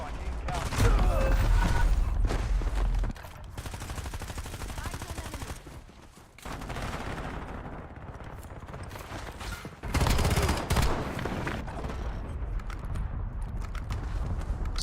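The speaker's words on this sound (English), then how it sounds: "Hostile airstrike incoming." Airstrike gunfire and explosions in the Call of Duty video game, dense rolling blasts and rapid fire running almost continuously with loud surges near the start and middle, while voices talk over the action.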